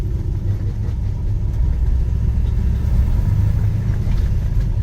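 1967 Chevrolet Malibu with an LS3 engine swap, a deep steady rumbling engine drone with low growl while driving, continuous and close, no talk heard.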